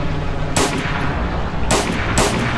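Gunfire in the Roblox military simulation Novyrus MilSim: three loud, sharp reports, one single and then two close together, each ending in a short echoing tail over steady background rumble.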